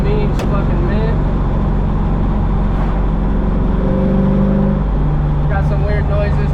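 An LS-swapped BMW E36 drives on the road, its engine a steady, loud low drone with harmonic tones that shift as it changes speed. The sound fills the whole stretch, and people talk faintly underneath.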